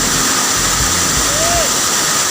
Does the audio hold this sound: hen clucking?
no